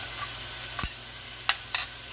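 Diced tomato added to a hot breakfast skillet gives a steady background sizzle with three short scraping stir sounds, close and fairly quiet.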